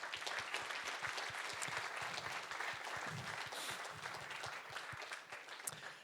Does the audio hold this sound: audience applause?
yes